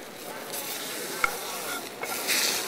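Meat frying in a pan with a little butter, seasoned with garlic pepper and Lawry's salt, giving a steady close sizzle with a brief clink near the middle.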